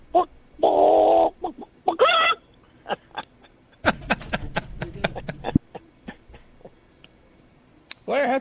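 A voice imitates a chicken clucking, giving a string of short clucks and a longer squawking call, with bursts of crowd noise and laughter in between, heard over a radio broadcast.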